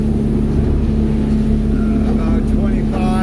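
A 2021 Edge Marine 24-foot boat cruises at about 18 mph and 3,300 rpm, its engine a steady, loud drone with rushing water and wind throughout and no pauses.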